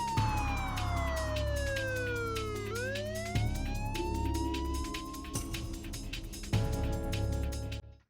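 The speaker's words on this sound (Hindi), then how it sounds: "सायरन की आवाज़ आ रही है, शायद एम्बुलेंस आ गई है" An emergency siren on an ambulance wails loudly with sweeping, falling and rising tones that repeat in cycles over a low rumbling engine, staying close and dominant throughout with no voices.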